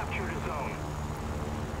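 A fixed-wing plane's engine drones steadily in the War Thunder combat game, a continuous low mechanical hum filling the background while someone talks over it.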